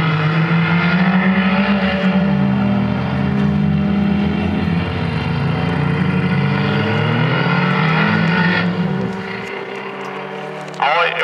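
Folkrace cars race around a dirt track at Trollhättan, their engines roaring loud and continuous with shifting pitch as they pass, while a commentator talks over the noise.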